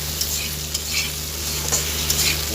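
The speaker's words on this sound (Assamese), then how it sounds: "এইখিনি মই প্ৰায় এতিয়া অকণমান ভাজি লওঁ" Fish seasoned with salt and turmeric fries in a pan while a spoon stirs it, making a loud, steady sizzle marked by repeated scraping and stirring clicks.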